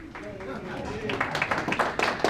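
Audience at a club meeting breaking into a short burst of clapping that grows denser and louder toward the end, with a voice talking at the start.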